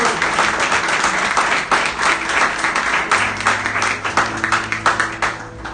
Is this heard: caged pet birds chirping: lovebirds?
no